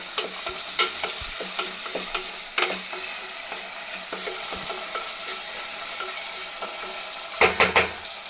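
Chopped onion and tomato sizzle in a hot pan while a spoon stirs and scrapes against the metal in repeated strokes, with a few sharper clinks near the end and no talking.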